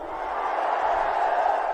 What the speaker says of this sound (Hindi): ये तालियां किसी को ऐसे नहीं मिलती